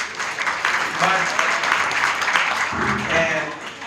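An audience applauding at a Greek community gathering, steady clapping held for several seconds with a speaker's voice over it.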